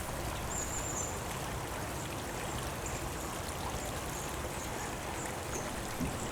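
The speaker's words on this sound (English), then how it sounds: "Walking amongst the trees, we've got the brook on our left hand side." A brook flows steadily through Fairy Glen woodland in Appley Bridge, a continuous close rushing and gurgling of water with faint bird calls in the background.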